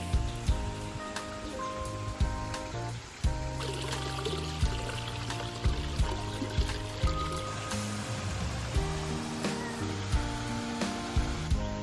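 Waterfalls along the entrance walk to a pagoda at Ninh Binh, Vietnam, running low in a dry season, giving a steady pouring rush of water with faint background tones and occasional soft knocks.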